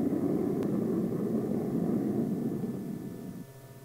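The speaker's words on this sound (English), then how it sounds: "the target jet engine provides the necessary flight stride" A Ryan Firebee target drone's jet engine roars in flight, a loud, continuous, wind-like rush that holds steady before easing off near the end.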